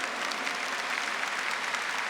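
A church congregation claps together during a Catholic Mass led by a priest, a dense, steady wash of applause sustained throughout without pause.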